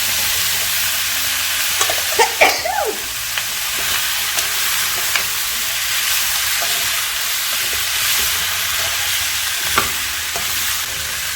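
Eggplant hits a frying curry seasoned with fish sauce in a pork belly curry pot. A steady, close sizzle runs throughout, with a few scraping stirs near the start and occasional light clinks.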